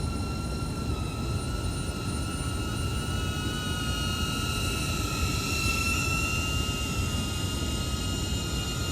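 DJI Avata drone hovering outdoors near trees, a continuous high-pitched propeller whine with steady tonal bands over broadband rotor noise, constant and fairly close.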